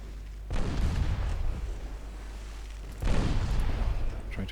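Naval gunfire in Ultimate Admiral Dreadnoughts: two heavy, booming salvos, each a loud, broad rumbling blast that sustains for a couple of seconds, separated by a lull, with no talking.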